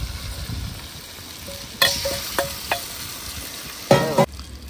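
Chicken pieces for a Bakrid biryani sizzle in masala while being stirred, with a steady frying hiss and several sharp scraping clatters of the spoon against the pan.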